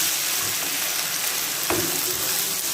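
Chicken shawarma frying in a pan, a steady close sizzle with occasional scraping stir strokes and a brief utensil clink, no voices.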